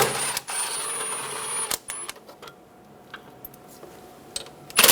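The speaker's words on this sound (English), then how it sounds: "Using a 10mm socket, remove the two bolts for the ground strap." A ratchet on a 10mm socket loosens ground strap bolts on a 1994–1997 Honda Accord 2.2L, giving a series of quick close clicks and ticks with short pauses between bursts.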